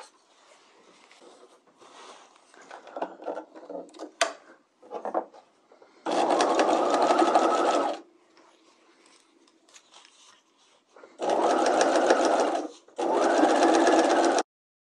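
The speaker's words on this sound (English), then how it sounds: "let's go ahead and continue and sew this whole thing together." Sewing machine sewing a bodice lining together, three loud close bursts of fast mechanical whirring separated by quiet fabric handling and soft rustling, with no talk.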